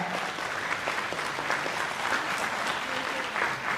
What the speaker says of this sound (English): I believe everyone here can do even better with the applause